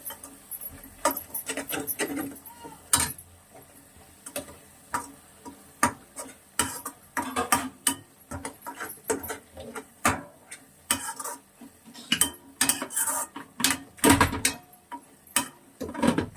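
Tamarind gojju ingredients frying in a pan on a low flame, with a spoon repeatedly scraping and tapping against the pan in irregular clinks, close and moderately quiet, no talk.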